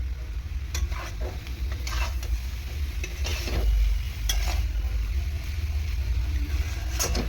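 Banana flower (thor) fries in oil in a pan, with a steady close sizzle and scraping stirring strokes throughout, and no voices.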